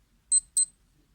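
A Casio W94H digital watch gives two short, high electronic beeps in quick succession, close and clear against near silence.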